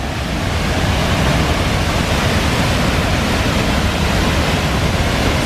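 Waterfall at Seven Falls in Lake Sebu, South Cotabato roars in a dense, unbroken wash of white noise, loud and close, steady throughout with no voices.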